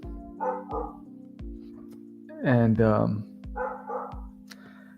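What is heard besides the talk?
dog barking outside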